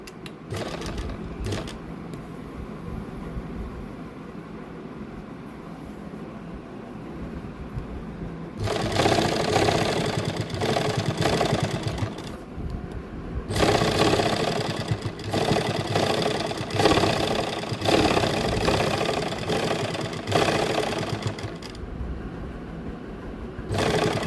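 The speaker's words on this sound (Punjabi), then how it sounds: "ਪਾਈਪਿੰਗ ਦੇ ਨਾਲ ਨਾਲ ਸਲਾਈ ਲਾਵਾਂਗੇ" Sewing machine stitching piping onto a suit, running in several sustained loud bursts with brief pauses between runs and no talk.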